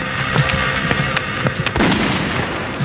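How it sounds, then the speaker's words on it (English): A single sharp gunshot cracks loudly over a noisy outdoor background, with scattered smaller impacts around it. "And then I just heard the gun go off."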